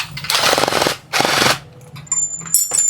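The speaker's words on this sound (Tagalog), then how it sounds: "Barilin nyo ng impact." An impact wrench with an Allen number 6 bit hammers on a bolt in two loud, rapid rattling bursts close by, followed by shorter clicks and a thin ringing tone.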